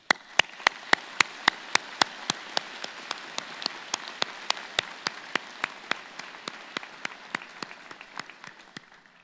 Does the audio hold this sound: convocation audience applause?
yes